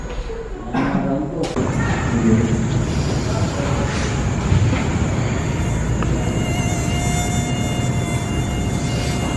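Mosquitoes buzz loudly and nonstop right beside the listener, a dense droning whine that swells in after a brief quieter opening and holds steady to the end.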